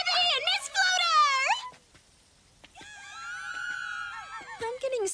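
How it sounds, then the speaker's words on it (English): High, drawn-out screams from frightened anime characters on a dark night test, two long wavering cries separated by a brief pause, loud and close. "And those screams aren't helping."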